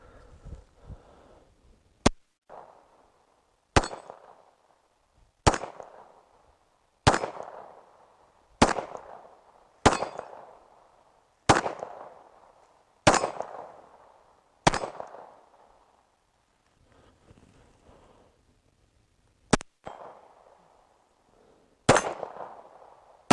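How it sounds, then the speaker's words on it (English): Kimber Rapide Black Ice pistol fired at a shooting range, a series of about ten sharp, loud shots spaced a second or two apart with brief echoing decay and quiet gaps between. "I think I need to shoot it some more rather than talk about it"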